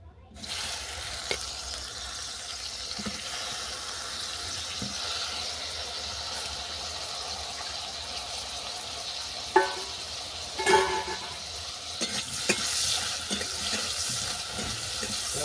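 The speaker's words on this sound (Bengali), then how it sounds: "তেল গরম হয়ে যাওয়ার পর বেগুনটাকে ভেজে নিচ্ছি" Eggplant fries in hot white oil in a pan, making a faint, continuous sizzle with a few brief clinks and stirring noises and no talk.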